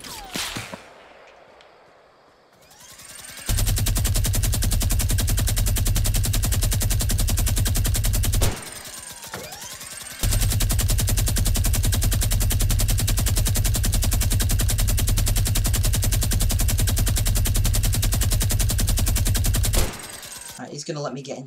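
Minigun fire in Fortnite, loud, continuous rapid bursts that run for several seconds, break off briefly and then resume in a long sustained stream, with a player speaking briefly before it.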